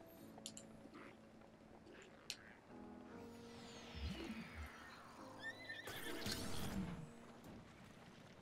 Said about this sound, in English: Wanna ride me out of here, horse?